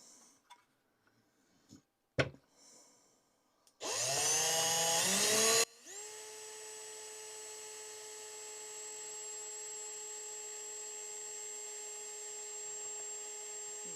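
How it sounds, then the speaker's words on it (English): A brief knock and some handling, then a power drill gives a loud high-pitched whir for about two seconds as it drills through, followed by a long steady motor drone that continues to the end. "we'll just go ahead and drill through"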